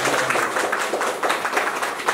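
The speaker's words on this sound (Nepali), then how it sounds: "यहाँहरूले सम्मान स्वरूप एकपटक ताली बजाएर सम्मान गर्नु" An audience claps in a show of honor for the municipality and its mayor at a community gathering, a steady dense patter of many hands, close and continuous.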